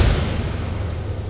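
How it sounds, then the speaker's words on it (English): Explosion in the video game Arma 3 during a Cold War tank battle: a deep boom at the very start, decaying into a dense, rumbling low roar that persists at steady loudness, with no talk. "That explosion"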